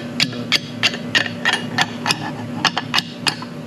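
A slate hammer dressing roofing slate into heart shapes strikes about a dozen sharp, close taps in a quick, slightly uneven rhythm over a faint steady hum.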